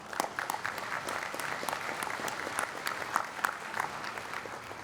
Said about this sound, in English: We're getting 2 rounds of applause for our honor students.